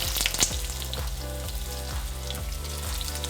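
Potatoes frying in oil in a pan give a steady, close sizzle with a few louder crackles near the start and soft recurring low thumps underneath, no voices.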